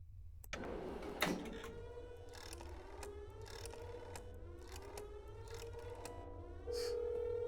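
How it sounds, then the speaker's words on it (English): An alarm siren from the video game That's Not My Neighbour wails steadily with a slowly rising pitch, over a background hum and scattered clicks and knocks, with no talking. "they hear the alarms, like, through the phone line"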